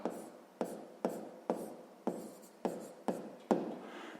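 Pen or pencil writing by hand on paper while working a sixth-grade maths exercise: about eight quick, scratchy strokes in a steady rhythm, close and fairly quiet, with no talk.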